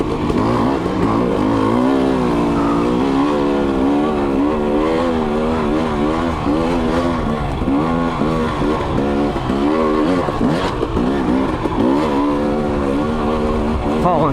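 A Beta dirt bike on a trail with Michelin Enduro stock tires runs steadily and loudly throughout, the engine pitch rising and falling as the rider follows another bike, with wind rumble underneath.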